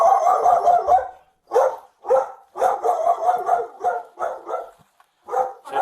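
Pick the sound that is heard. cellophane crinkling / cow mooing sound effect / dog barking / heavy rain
dog barking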